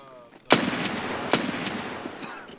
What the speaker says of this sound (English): I shot one twice. He's hurt.